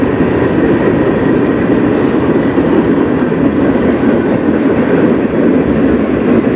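A CN freight train on the Strathroy Subdivision rumbles past close and loud, a dense, continuous roar of wheels and cars with no letup.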